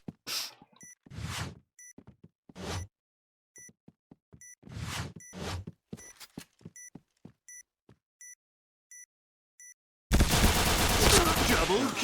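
Gunfire in the Point Blank shooter game: sharp shots and short bursts scattered over a steady bomb beep, ending in a loud, sustained blast of noise.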